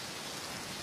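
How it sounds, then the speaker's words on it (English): Steady rain falling, a dense even hiss of drops on surfaces with no other sounds. "now it's starting to rain."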